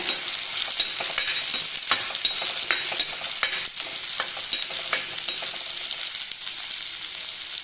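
Small onions (shallots) frying in hot coconut oil for a Kerala fish curry give a steady, dense crackling sizzle with scattered sharp pops and stirring scrapes throughout, close and fairly loud, with no talking.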